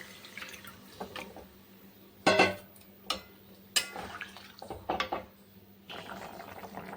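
Paneer dropped into curry gravy in a pot, with soft wet plops, drips and scattered metallic clinks of a spoon against the pot over a faint steady hum.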